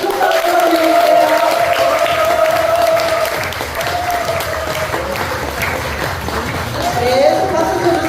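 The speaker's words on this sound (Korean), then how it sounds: "큰 박수 부탁드릴게요" Audience applause welcoming a guest to the stage at an indoor gathering, loud and sustained with scattered cheers, while a presenter's amplified voice speaks over it throughout.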